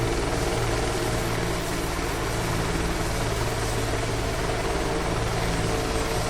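A Bell 429 helicopter idles during shutdown in front of a hangar, a loud, close, unbroken turbine and rotor roar that stays constant throughout.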